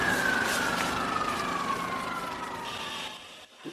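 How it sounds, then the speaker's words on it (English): Emergency vehicle sirens wail outdoors, a loud, continuous tone slowly falling in pitch over dense background noise, with a second higher wail entering near the end before the sound drops briefly. "You can hear the sirens now."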